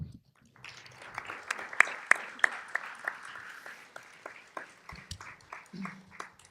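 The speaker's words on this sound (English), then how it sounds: "So please give our great panel a round of applause" Scattered applause for a panel at a film collective event, separate sharp claps rising then thinning out, with a faint voice entering near the end.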